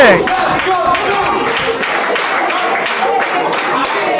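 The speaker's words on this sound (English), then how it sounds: "This crowd is loud for this match" Loud crowd at an independent wrestling show cheering and applauding during a six-man tag team match, dense continuous clapping and shouting close by, with a voice rising briefly at the start.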